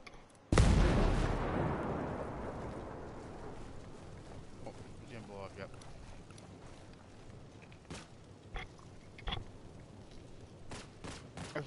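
A single loud explosion in a console shooter game bursts out suddenly and then rumbles and decays over several seconds, followed by scattered sharp clicks and distant pops, with voices talking quietly throughout.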